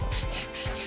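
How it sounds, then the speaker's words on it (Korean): Sandpaper rubs back and forth across a piece of wood in quick, close, raspy strokes that are loud and continuous, with no talk. "저도 잠깐만 사포질을 간단히 할게요"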